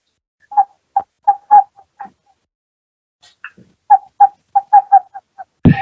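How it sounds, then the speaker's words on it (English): Western Screech Owl giving its bouncing call, a run of short hollow hoots that speed up toward the end, heard twice in clear series with a brief pause between, close and alone. "The Western Screech Owl does this."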